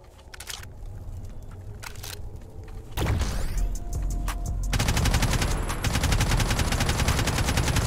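Rapid automatic gunfire from an AK and shotgun blasts in a Roblox shooter game, loud and dense bursts of repeated shots with sharp single cracks, continuous toward the end.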